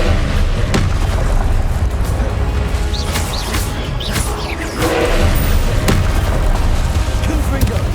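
Heavy booming blasts and crashes from the Confringo fire spell in Hogwarts Legacy ring out loud and close amid spell-combat clatter, with a few sharp impacts and a voice calling out over the din.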